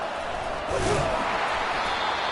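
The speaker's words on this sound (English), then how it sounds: "It's early, but this crowd is fired up. Listen to this noise here." A fired-up stadium football crowd roars as a continuous loud wash of cheering, with a brief swell in the middle.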